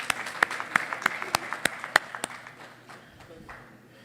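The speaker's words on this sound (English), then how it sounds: "I offer a big clap to them." At a conference inaugural session, a small audience gives a short burst of distinct, separate claps that thin out and fade after a couple of seconds.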